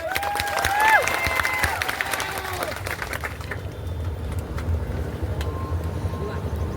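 A large audience at a World Tribal Day (Adivasi Day) speech event breaks into sustained applause and cheering. A voice rings out briefly at the start, then dense clapping continues steadily to the end.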